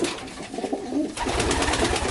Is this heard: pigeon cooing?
yes